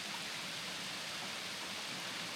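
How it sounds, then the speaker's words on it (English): Gill Force waterfall on the Herriot Way after plenty of rain, a dense, steady roar of falling water close by, unbroken and with no voices. "one of the prettiest waterfalls I've seen in a while"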